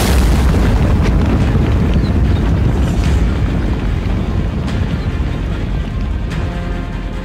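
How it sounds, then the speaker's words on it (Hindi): A long-range missile explosion in a war zone in Russia, heard as a loud, sustained deep rumbling roar with wind buffeting and a few sharp bursts throughout, no voices. "या फिर ज़ेलेंस्की ने कर दिया लॉन्ग रेंज मिसाइल का धमाका।"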